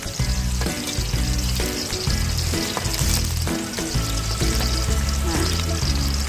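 Garlic and shallots sauté in a pan for a tumis kepompong belut dish, frying with a dense, continuous sizzle close up while utensils clink and scrape against the pan in an irregular rhythm.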